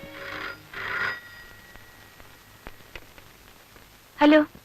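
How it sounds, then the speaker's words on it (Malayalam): A telephone rings in short bursts, two rings close together, a quiet pause, then another ring. "ഫോൺ ബെല്ലടിക്കാൻ തുടങ്ങി കുറെ നേരമായല്ലോ"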